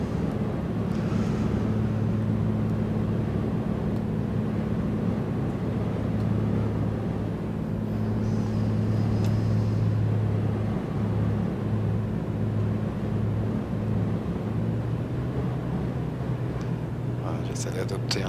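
Comanche helicopter engine in a flight simulator game, cruising along a coastline: a steady droning turbine hum with a sustained low tone throughout, while someone talks over it.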